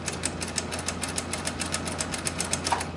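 A sewing machine stitches a quilt seam in a fast, even run of rhythmic mechanical pulses, close and steady throughout.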